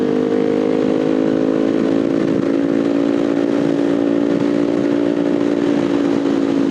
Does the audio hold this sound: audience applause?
no